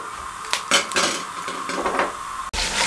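Cumin seeds roasting in ghee in a pot over a medium flame, with a steady sizzle broken by repeated metal clinks and scrapes of a spoon against the pot, fairly close.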